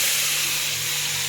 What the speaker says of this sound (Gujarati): હવે આપણે આ જે ટમેટા ડુંગળીની ગ્રેવી છે એ આપણે નાખી દઈશું